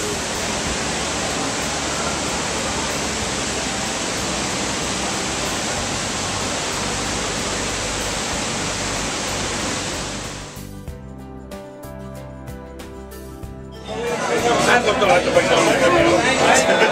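Steady, loud rushing of flowing mountain water at the Guinness brewery at St James's Gate in Dublin, a continuous broadband wash that briefly drops away before surging back, with voices faintly underneath.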